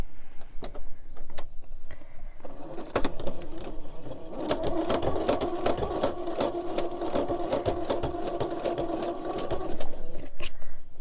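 A sewing machine runs steadily and loudly for about eleven seconds, stitching a quilt made from baby clothes, with a brief lull and restart near the start and a continuous mechanical whir with rapid needle clatter throughout.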